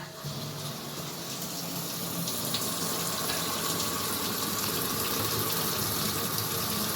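Water gushes and splashes steadily into the tub of a small Panasonic twin-tub washing machine during a test wash, a continuous close, even rushing sound with no talking.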